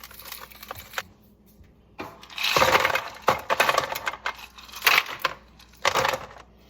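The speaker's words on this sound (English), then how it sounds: "another layer of rock salt on top of the ice" Rock salt and ice cubes are poured in layers into metal pans to chill them for rolled ice cream, making several loud, rattling bursts of clattering, crunching clinks separated by short quiet gaps.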